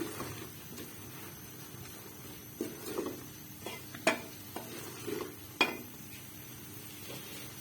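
Tomatoes roasting in a cooking pan while making Lahori chickpea curry: soft, low sizzling under scattered scrapes and a few sharp metallic taps of a utensil against the pan, irregularly spaced and close by.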